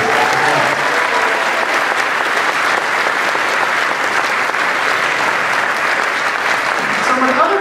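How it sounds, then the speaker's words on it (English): Steady audience applause fills a school senior awards ceremony, dense and continuous clapping from a full crowd, loud and unbroken throughout. "So I think that's worth a round of applause for these folks."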